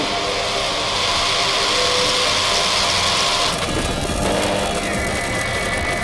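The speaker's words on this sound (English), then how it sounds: "Ignition. Liftoff of L-87. Go Falcon, go, go." SpaceX Falcon rocket engines roar at liftoff for the NROL-87 launch, a loud, dense broadband rumble sustained throughout with a crackling shift partway through.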